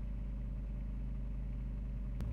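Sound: Kubota 719 cc engine running while warming up

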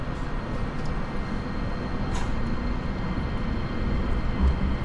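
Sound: JR Kyushu Nagasaki Main Line local train running

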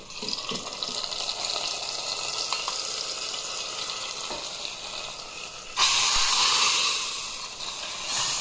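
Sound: tempering onions, cumin, mustard, garlic, curry leaves, chillies sizzling

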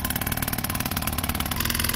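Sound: backup outboard boat engine running

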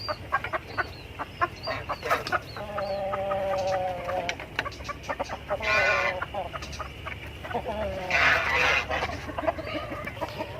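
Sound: native chickens, rooster with hens

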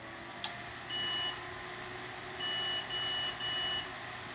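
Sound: motherboard beep codes failing to boot

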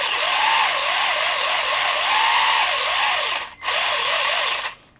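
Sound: Traxxas Slash RC car steering servo moving

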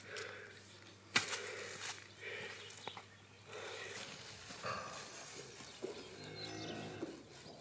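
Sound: sheep on a farm

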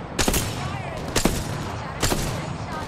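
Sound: gunfire in a video game

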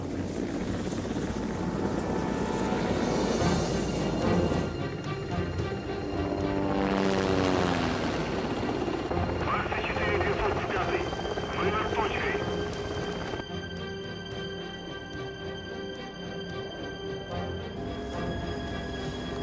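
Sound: helicopter hovering

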